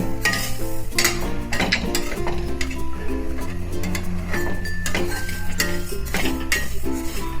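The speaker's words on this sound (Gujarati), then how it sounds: "જો ગાઈસ આપણા તલ ચટકવા માંડ્યા છે" Sesame seeds roasting in a pan on the stove while being stirred, with the stirring and the pan clinking loudly and some background music, and the seeds crackling and popping in quick, irregular bursts.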